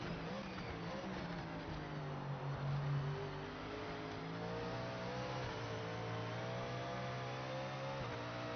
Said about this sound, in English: You can actually hear it in the engine